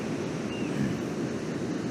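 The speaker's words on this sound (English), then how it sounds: "I really hope you can hear me because waves are pretty loud" Loud ocean waves wash continuously in a steady broadband roar with wind noise buffeting the microphone, alone without any voice.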